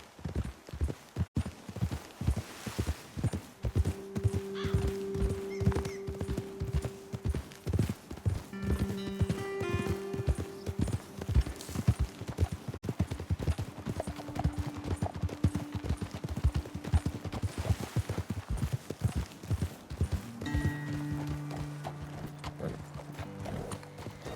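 Horses ridden in Red Dead Redemption 2 clip-clop in a steady, close, rhythmic beat of hooves throughout, with brief tonal game sounds layered on top and no one speaking.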